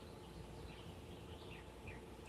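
Birds singing outdoors on a quiet morning, a few faint chirps rising over a steady broad background hiss, heard alone without talk.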